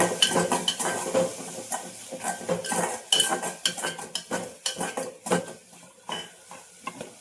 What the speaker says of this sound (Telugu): కొద్దిగా అల్లం వెల్లుల్లి పేస్ట్ వేసి వేయించుకోవాలి